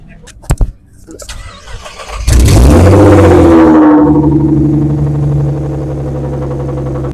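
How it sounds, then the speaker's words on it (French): A Chevrolet Corvette fires up with a sudden, very loud revving roar after a few faint clicks. The engine note then settles into a steady, drawn-out drone as the car pulls away and slowly grows quieter. "Ici la corvette qui s'en va."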